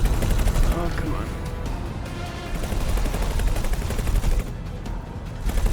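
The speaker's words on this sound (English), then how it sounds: "Trying to dodge shots is kind of hard. Even in a really fast ship like this." Spaceship weapons firing in X4: Foundations: a steady stream of rapid, punchy shots runs throughout over a heavy low rumble, with a voice talking now and then over it.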